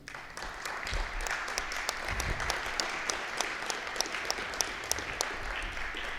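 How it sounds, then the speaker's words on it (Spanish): An audience at an academic history forum gives a speaker warm applause, a moderately quiet but continuous wash of many hands clapping, with a few sharper individual claps standing out. "Le damos la bienvenida con un caluroso aplauso"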